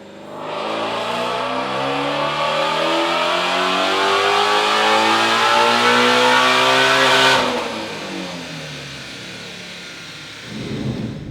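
The engine of an Odin supercharged Shelby GT350 revs up in one long, loud, close climb, its pitch rising steadily for several seconds before dropping back and settling toward idle, with a brief rumble at the end.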